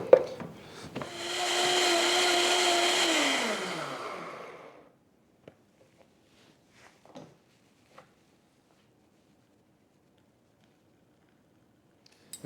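Blender whirring loudly for about four seconds on broccoli soup, its motor pitch dropping as it winds down, followed by a few faint clicks and knocks in a quiet kitchen.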